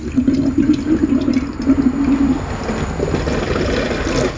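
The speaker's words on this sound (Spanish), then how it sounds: "sale primero el aire y luego como que empieza a salir el agua" Air sputtering and gurgling from a household water tap in Salamanca before the water starts to flow, a choppy bubbling burst in the first half giving way to a steadier rushing stream, close and fairly loud.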